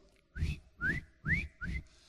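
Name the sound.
person whistling, imitating a whistle signal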